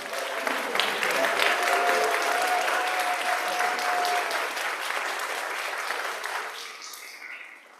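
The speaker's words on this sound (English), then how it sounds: "Now, can we give everyone a round of applause?" Applause from a congregation at a church flower communion service, thanking the gallery committee and those who hung fabrics, dense clapping that swells and holds for several seconds before tapering off near the end.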